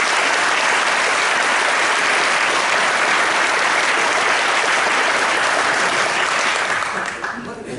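An audience at a business and economic forecast event applauds steadily to welcome a speaker, a dense roomful of clapping that fades in the last second.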